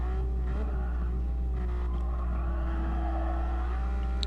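A rear-engine race car in a sim racing video game accelerates at full throttle, its engine a loud, sustained buzzing drone whose pitch climbs and shifts through gear changes, heard alone.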